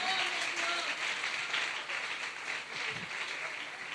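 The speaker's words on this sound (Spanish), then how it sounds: "Yo quiero ese aplauso si es para el Señor." A crowd at a worship service applauds continuously with dense, steady clapping, while a voice speaks faintly underneath.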